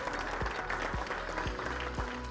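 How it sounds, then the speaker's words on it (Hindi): Audience applause at an outdoor Indian farmers' forum in Shikarpur on stubble management and winter vegetables, a dense, steady clapping wash over a low background rumble, with a few thuds breaking through. "अपना भी जोरदार तालियों से शुक्रिया अदा कीजिए।"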